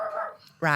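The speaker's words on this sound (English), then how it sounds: "Sorry about that barking." Dog barks up close, one at the start and a louder one at the end, with a brief spoken word between them.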